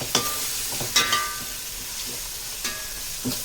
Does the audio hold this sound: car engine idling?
no